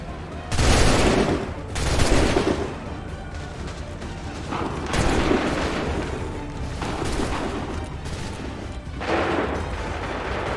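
Musket volleys in Assassin's Creed III erupt as loud, ragged bursts of massed gunfire, several separate volleys rolling out over about ten seconds amid battle noise.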